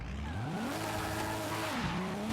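A 1970 Datsun 510 with a 750 hp drag tune in Forza Horizon 5 revs hard and accelerates out of reverse. Its tires spin and squeal steadily for a couple of seconds, loud and close, with the engine pitch sweeping up and down.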